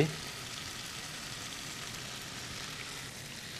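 XO sauce, oyster sauce and soy sauce sizzle in a hot pan as the seasonings are stir-fried for fettuccine, a continuous close crackling hiss that stays fairly quiet and steady after a brief initial clatter.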